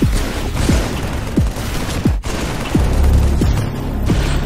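Sustained gunfire from a Halo 3 machinima battle, with a rolling fusillade of shots and sharp repeated cracks about every half second over a dense, loud background.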